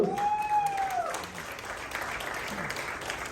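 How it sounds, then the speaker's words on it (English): A live audience at a leaders' training meeting in India gives a round of applause, steady dense clapping throughout with a brief vocal tone at the start. "Give yourself a big round of applause."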